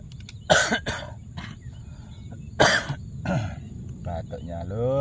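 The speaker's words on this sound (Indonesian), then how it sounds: "Batuknya lur." Two pairs of sharp, close coughs, one at the start and another a couple of seconds later, over quiet background noise.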